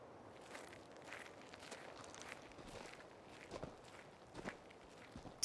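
Footsteps walk at a steady pace over a rustling, loose surface during a stealthy approach toward possible guards, soft and fairly close with a few heavier steps near the end.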